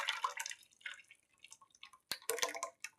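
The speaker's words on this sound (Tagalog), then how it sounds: "Hahalo-haluin natin yan." Stirring a cooking mixture in a pot, soft wet scraping and dripping sloshes in irregular strokes, close and faint with quiet pauses between.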